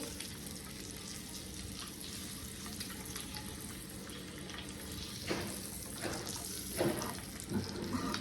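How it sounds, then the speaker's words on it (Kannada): Eggs frying in curry masala in a pan, a steady soft sizzle throughout with a few louder crackles and stirring knocks toward the end. "ಒಂದು 5 ಮಿನಿಟ್ಸ್ ನಾವು ಈ ರೀತಿ ಫ್ರೈ ಮಾಡ್ಕೊಂಡ್ರೆ ಸಾಕು"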